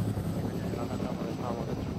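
Enemy helicopter in the ArmA 3 military game, a steady low rotor and engine drone held throughout at moderate distance, with voices talking over it.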